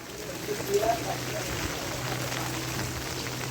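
Steady patter of rain on a surface, a soft continuous hiss with a low hum beneath and a brief murmur of voice early on.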